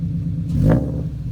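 A 2017 Toyota 86 fitted with a Tomei UEL header gives one short, close rev that swells to a peak and falls away within about a second, over a low idle rumble.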